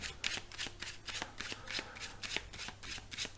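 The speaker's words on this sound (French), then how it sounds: "vous montrez un jeu de 52 cartes et vous allez mélanger les jeux. Donc vous mélangez toutes les cartes" A deck of 52 playing cards shuffled close up for a card trick, a rapid run of crisp riffling flicks that keeps a busy, steady rhythm throughout.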